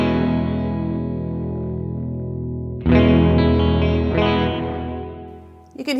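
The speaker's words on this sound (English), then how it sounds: "This is a lo-fi reverb, 90s style electronic reverb with distortion on the trails, a classic shoegaze effect." An electric guitar runs through an Alexander Space Force reverb pedal on its Bloody V lo-fi setting, a 90s-style electronic reverb with distorted trails: a sustained chord washes out, a fresh strum swells in midway, then trails off.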